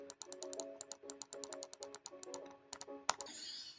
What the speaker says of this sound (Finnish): Sori jos tää klikkailu kuulostaa jänskältä